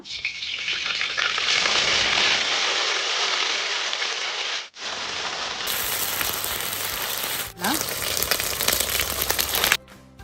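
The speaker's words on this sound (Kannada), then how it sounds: "ಜಿಂಜರ್ ಗಾರ್ಲಿಕ್ ಪೇಸ್ಟ್ ಫಸ್ಟಿಗೆ ಆಯಿಲ್ಗೆ ಹಾಕಿದ್ದೀನಿ" Ginger garlic paste frying in hot oil for a baji side dish, a loud steady crackling sizzle that cuts out briefly twice, with a faint clink near the end.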